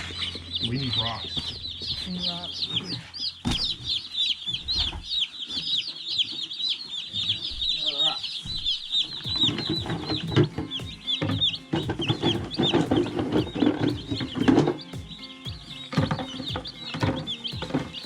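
Chicks peep busily throughout while a hen gives low clucks nearby, with some soft rustling and handling sounds mixed in.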